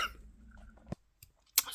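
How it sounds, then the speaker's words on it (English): A few short, soft bursts of a person sneezing indoors, separated by quiet gaps, with no talk. "Sorry, I had to sneeze 4 times."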